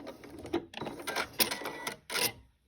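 Sewing machine backstitching fabric while sewing a Fibremood Lauren top, heard as several short bursts of motor whir with brief pauses between them, close and fairly quiet.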